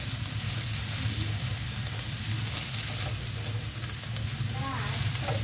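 Garlic frying in a pan during home cooking of sautéed bean sprouts, giving a steady, close sizzle that holds at an even level throughout with faint stirring scrapes and no talking.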